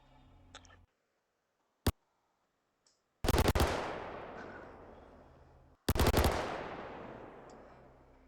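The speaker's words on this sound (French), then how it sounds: "On va essayer de balancer une rafale complète et voir ce que ça donne." Klaus and Werner Lumin V SMG in Star Citizen fires two separate full-auto bursts, each a sharp loud rattle that trails into a long decaying echo, with a few faint clicks and a lone crack in the quiet before them.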